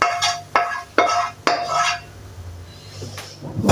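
Ingredients for ham and cheese crepes being mixed in a pan, with several sharp clanks of a utensil against the pan in the first two seconds, then quieter scraping and stirring, close by.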